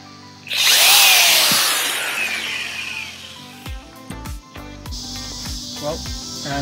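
Power drill grinding out rivets on an Old Town canoe, a loud continuous high whine for a few seconds that then drops to quieter intermittent bursts, clicks and handling noises.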